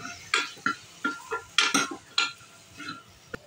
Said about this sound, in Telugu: ఒక టమోటాని మొత్తం కట్ చేసుకొని దీంట్లోకి వేసుకొని బాగా మిక్స్ చేయాలి.